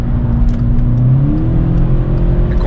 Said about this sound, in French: même si c'est l'échappement d'origine, ça gueule quand même